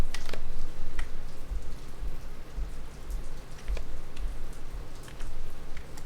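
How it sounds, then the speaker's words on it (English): Steady rain pours in the video game Rust, a dense even hiss with scattered louder drop patters, moderately loud and continuous with no voices. "It's raining now, so you'll probably hear that in the background."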